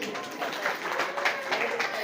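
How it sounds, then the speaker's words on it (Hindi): Audience applause at a public speech event, a dense, steady patter of clapping lasting about two seconds at moderate volume, with crowd voices mixed in. "ताली बजा दीजिए इनके लिए"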